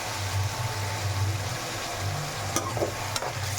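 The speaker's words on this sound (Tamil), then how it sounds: "அதையும் போட்டு நல்லா எண்ணெய் பிரிகிற அளவுக்கு வதக்கிக்கலாம்" Ground tomato paste sautéing with salt in oil for a prawn, radish and plantain kuzhambu, a steady close sizzle with low stirring scrapes and a couple of sharp clinks near the end.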